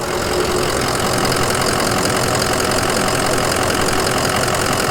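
A stock 2004 Ford Excursion Limited with a 6.0L Powerstroke diesel idles with a loud, steady, close clatter and vibrating hum, unbroken and without talk.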